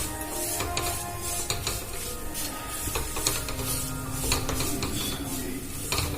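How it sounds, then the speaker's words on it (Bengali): Semolina fries in a pan while a utensil stirs it steadily, giving a continuous close scraping and clinking over a soft sizzle, with no talking. "দেখুন আমি সমানে নাড়াচাড়া করছি"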